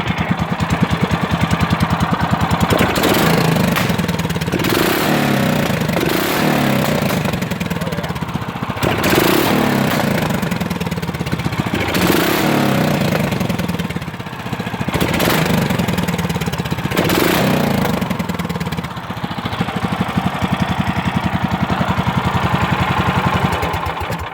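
A go-kart race mower engine runs with its mounts only finger-tight, a loud, close, rough mid-pitched drone that surges and dips every few seconds, with no voices.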